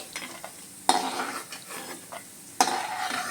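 Ingredients for flattened-rice (poha) upma are stirred and fried in an oiled pan: a soft, steady sizzle runs under repeated scraping strokes, with two sharp, loud scrapes standing out, all close to the microphone.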